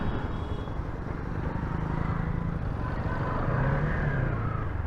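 A motorcycle engine runs on after a struggling start that seemed tied to a fuel problem, idling roughly in a continuous close rumble with a slight rise in revs near the end.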